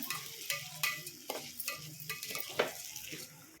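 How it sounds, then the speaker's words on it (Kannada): A spoon scrapes and stirs rice into a tempering for mint rice bath in a pan, with irregular clinks and a soft sizzle underneath, close and fairly quiet. "ರೈಸ್ನ ಎಲ್ಲ ಮಿಕ್ಸ್ ಮಾಡ್ಕೊಳ್ಳೋಣ"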